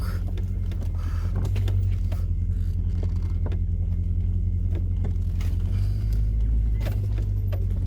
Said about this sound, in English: the vehicle is in low gear and it's just on a bumpy surface, a rocky surface